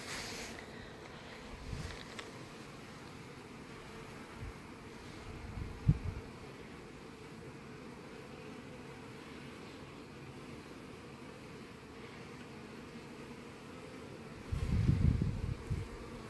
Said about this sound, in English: Little bee piping.